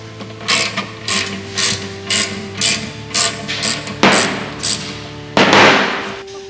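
Ratchet clicks out in a steady series of rapid bursts while a bushing tool is loosened on the rear frame of a Honda Ruckus scooter, with a few louder, harsher ratcheting strokes near the end.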